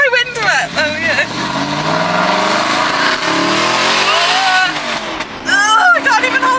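A loud Aston Martin car engine revs and roars steadily up close, rising and falling in pitch, with a person talking over it at the start and end.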